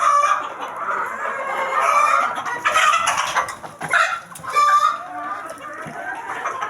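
Chickens on a small poultry farm cluck and squawk close by in repeated bursts, with a rooster-like call among them and a person speaking intermittently in the background.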